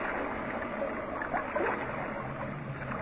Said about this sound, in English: The ship rocked from bow to stern and started to take water.